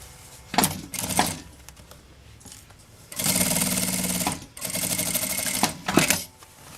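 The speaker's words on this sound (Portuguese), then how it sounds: "Agora eu vou costurar o último." A sewing machine stitches a travel toiletry bag in several bursts: short runs near the start, then two long steady runs of rapid stitching, close and loud, with no talk.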